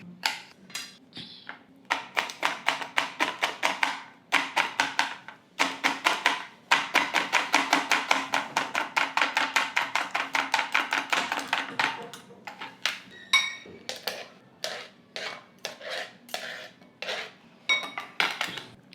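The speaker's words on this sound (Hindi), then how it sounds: "ऑनियन को कट कर देंगे।" Onion being chopped with a knife on a board in a home kitchen, rapid bursts of crisp sharp taps in quick runs with short pauses, close and clear with no talk.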